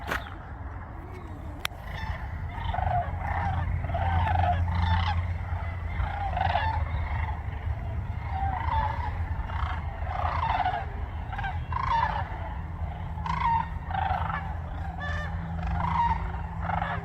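Birds gobbling outdoors during a family walk, repeated honking, gobbling calls in loose bursts over a steady low rumble, moderately close and fairly loud throughout.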